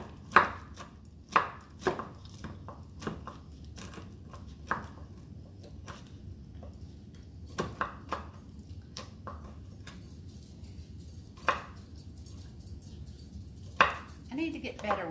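A knife chopping bacon on a cutting board while a loaded baked potato dish is being made: sharp, irregular chops spread out over the clip, each one crisp and close, with quieter handling noise between them.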